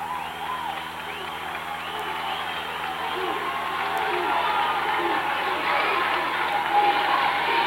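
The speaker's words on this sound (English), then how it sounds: "And the crowds for both sides are coming to life here." Crowd noise swells steadily from both sides' fans at a 1995 high school boys basketball sectional semifinal between Dodgeville and Viroqua, a broad sustained roar with cheering that grows louder over the span, with faint voices mixed in.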